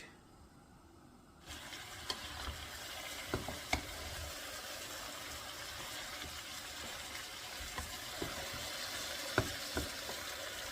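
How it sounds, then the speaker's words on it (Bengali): Beef kala bhuna frying on high heat in a pan, a steady sizzle with scattered scrapes and clinks as the meat is stirred, starting quietly and getting louder after a second, with no talking. "শুধুমাত্র আমি বারে বারে মাংসটা নাড়া দিয়ে যাব"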